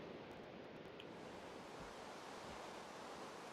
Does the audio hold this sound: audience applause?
no